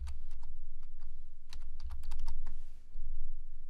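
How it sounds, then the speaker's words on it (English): Someone types a card number on a computer keyboard in short, irregular bursts of crisp, close key clicks over a low steady hum. "what you want to do is basically type in the card number"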